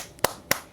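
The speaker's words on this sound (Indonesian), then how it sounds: "silakan bertepuk tangan dulu, tepuk An-Nas" Children's rhythmic hand clapping in a class-two Islamic studies lesson, two sharp claps spaced about a quarter second apart, crisp and close, with no voices.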